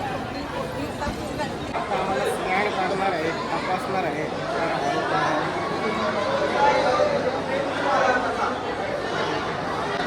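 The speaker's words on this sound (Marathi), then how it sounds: "आज भरपूर गर्दी आहे असं मला वाटत" Crowd chatter fills a busy Hindu temple at Jivdani, a steady murmur of many voices close around with no single speaker standing out, holding evenly throughout.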